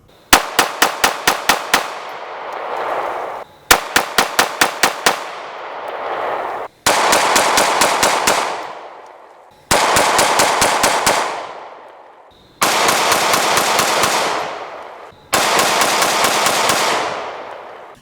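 Six strings of rapid pistol shots from a Smith & Wesson Performance Center Shield 2.0 fired outdoors at night, each burst of several sharp cracks followed by a fading echo, loud and close with short silences between strings.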